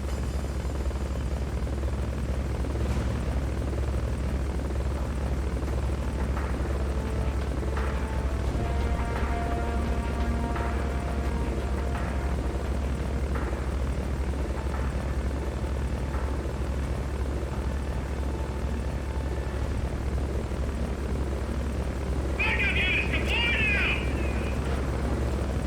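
A helicopter in the video game Metal Gear Solid: Peace Walker drones with a constant low rotor hum throughout, steady and fairly loud, with faint game effects and a brief bright chime near the end.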